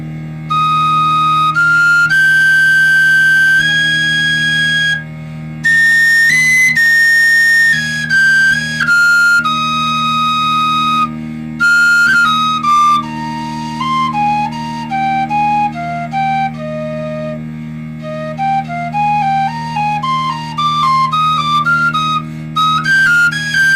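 Bright Weston tin whistle notes rise and fall through a flowing tune including C natural, some held long, others moving quickly, played solo at close range over a faint low hum.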